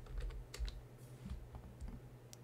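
Fingers tap out a short folder name on a computer keyboard, a quiet run of distinct key clicks at an uneven pace, close up with no talking.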